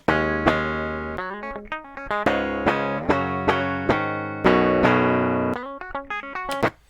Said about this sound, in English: I'm gonna bypass Amp Icon so you can hear it's just DI guitar